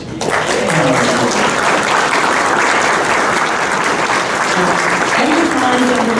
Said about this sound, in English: I'm going to ask for a round of applause for this.